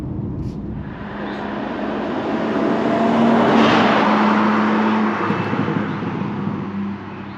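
A BMW M4 Competition G82 drives past, its engine swelling from a distance to a loud roar midway, then fading away.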